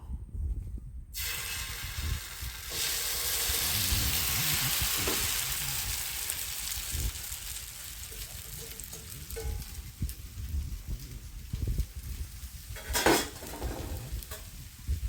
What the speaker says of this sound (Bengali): এবারে মাখিয়ে রাখা মিশ্রণটা আমি ফ্রাই প্যানের মধ্যে ঢেলে দেব।